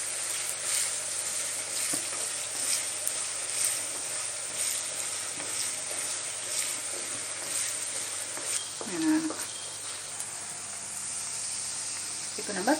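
Garlic fries in hot oil for karuvadu tokku, a steady close sizzle and hiss that carries throughout, with brief stirring scrapes near the end.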